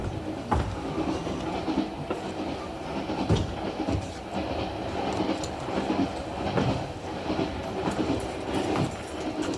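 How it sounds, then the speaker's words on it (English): A passenger train running on rails, heard from inside, with a continuous rumble and rhythmic clickety-clack of wheels over rail joints, steady and fairly close. "Where does this train stop next, Doncaster?"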